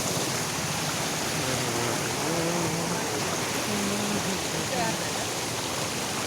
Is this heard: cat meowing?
no